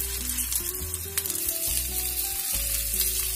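Pressed taro (arbi) patties frying in oil crackle with a steady close sizzle, while low tonal music plays beneath.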